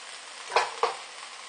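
Garlic and cabbage hit a hot pan for a pork stir-fry, giving a steady soft sizzle with two sharp bursts of hissing as each batch drops in, close and with no talking.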